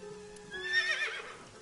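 A merry-go-round horse in the video game AI: The Somnium Files gives a brief, moderately loud whinny over a low steady background hum, rising and fading within about a second.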